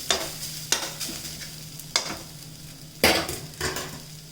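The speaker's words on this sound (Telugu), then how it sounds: "కొత్తిమీర వేగే లోపల అంతలోకి దినుసులు వేపించుకుందామమ్మ మనం." Coriander frying and sizzling in a pan, with periodic stirring scrapes and clinks every second or so, close by, no talking.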